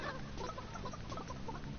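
A chicken in the Realm Royale video game clucks in a quiet, rapid, steady patter of soft bursts with low rumbling game ambience beneath it.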